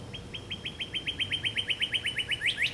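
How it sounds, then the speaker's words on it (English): A small bird chirps indoors in a steady, fast series of sharp repeated tweets, about six per second, loud and close, ending in a brighter rising call, with no talk over it. "this bird is driving me nuts"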